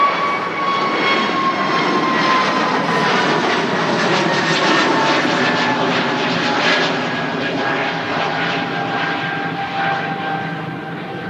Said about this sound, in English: EasyJet A320neo next out